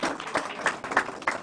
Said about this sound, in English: Please, that deserves another round of applause.